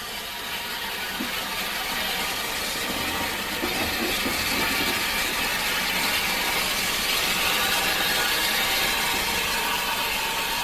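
A steam train on the North Norfolk Railway runs steadily with a broad, continuous hiss and rumbling machinery, fairly loud and unbroken, with no one talking.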